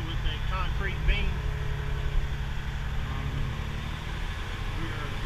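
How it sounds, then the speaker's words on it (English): A Peterbilt tow truck on the road, its diesel engine drawing a steady, continuous low rumble throughout, fairly close and unbroken, with faint cab noise riding over the drone. "We're driving the Peterbilt V100"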